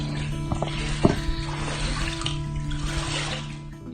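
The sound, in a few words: flood water flowing into a house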